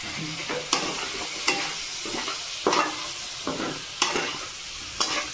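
Chicken and fried potato sizzle in a pan while someone stirs, with a steady fry under repeated scraping strokes about every second, close and fairly loud.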